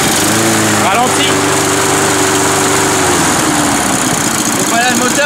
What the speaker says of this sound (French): le moteur il peut déjà ralentir à fond là